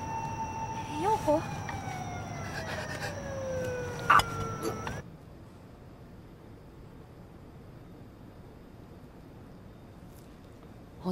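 A wailing siren sounds for about five seconds amid background clatter, then cuts off, leaving quiet hiss.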